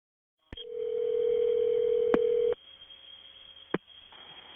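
Telephone dial tone in a played emergency call recording, a steady loud tone holding for about two seconds, then cutting to a quieter line hum broken by brief clicks.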